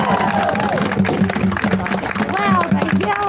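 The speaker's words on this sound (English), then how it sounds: "they yelled and clapped" Crowd at a climate protest in a Canberra city centre mall yelling and clapping, a steady wash of cheers and applause throughout with voices mixed into the noise.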